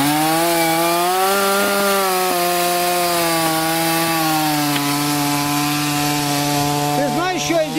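A chainsaw cutting into a poplar tree, its engine holding a loud, steady droning whine close by for the whole stretch, pitch dipping slightly as the chain bites, with a brief voice near the end.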